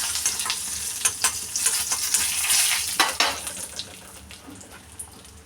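Dried red chillies fry in hot oil in a pan for a Tamil pirandai thuvaiyal, giving a steady loud sizzle with scattered sharp crackles and occasional stirring scrapes. No one speaks.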